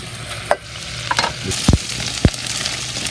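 Adobong kangkong frying in a pan hisses steadily at close range, broken by a few sharp scrapes and knocks as a spatula stirs it.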